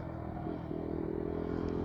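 A motorcycle engine rumbles past nearby at a roundabout, its low throbbing growl briefly rising in pitch, with no voices.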